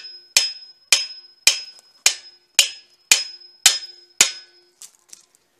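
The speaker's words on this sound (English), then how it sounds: "I can use a hammer, I guess," Eight sharp metallic hammer blows ring out at an even pace while the pinion gear of a Dana 35 axle is driven out, each strike followed by a bright decaying clang, then a few lighter taps.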